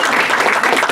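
A rally crowd at a food and water safety event claps loudly for a panel in a short, close burst of continuous applause.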